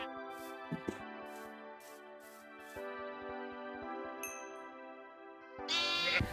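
Sheep bleating in the video game Minecraft, a few short wavering calls over steady game music, moderately loud and close.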